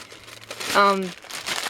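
Plastic Ziploc sandwich or floss-away bags crinkle briefly close to the mic, a short rustle set among soft talk and a brief voiced sound.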